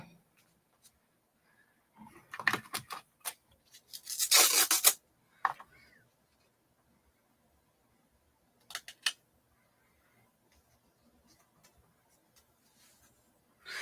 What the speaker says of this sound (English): we need to do some sanding really quick.